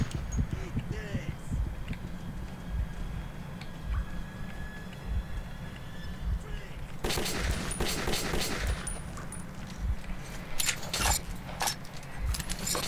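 Gunfire in the Metro 2033 video game: after a stretch of low rumbling ambience, repeated sharp shots and rapid bursts arrive in the second half, loud and clustered against the steady game background.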